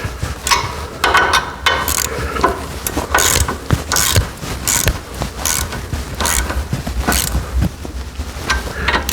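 A hand ratchet tightens a nut onto the mounting bolt of a Kimpex Commander UTV snow plow, giving a close, loud run of rapid clicking bursts with short pauses between strokes.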